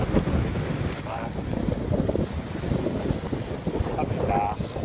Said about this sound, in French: On marche entre 5 et 6 nœuds en fonction des rafales de vent.